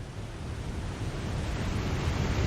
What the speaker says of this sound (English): we're next to a very loud waterfall